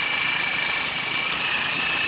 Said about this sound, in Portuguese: tô pilotando a moto com o celular aqui na mão